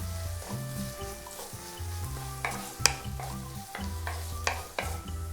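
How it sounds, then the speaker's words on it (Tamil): Sliced onions frying over medium heat in a pan for mutton dopiaza, a faint sizzle with intermittent stirring clinks and scrapes, close, over a low hum. "ஸ்லைஸாக வெட்டி வச்சுருந்த ஆனியனை போட்டுருவோம். மீடியம் ஹீட்லேயே பண்ணுங்கள்."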